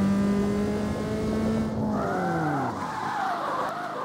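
Car drifting through a full 360-degree spin in the street racing game CarX Street, a steady loud tire screech with engine tone that bends and sweeps downward as the car rotates, continuous throughout without talk.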